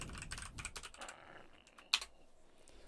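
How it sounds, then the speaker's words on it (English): Typing on a computer keyboard while entering a web address, a quick burst of close, light key clicks followed by a sharper single keystroke and a quiet pause. "I'm going to type in localhost"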